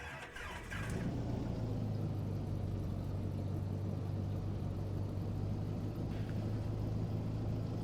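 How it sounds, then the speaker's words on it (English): Small aircraft piston engine starting in the X-Plane 12 flight simulator: a brief cranking whir, then the engine catches into a loud, steady low rumbling idle that holds throughout. "We can start our engine."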